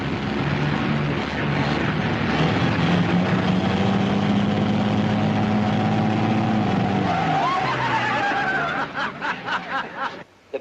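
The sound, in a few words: car driving and braking hard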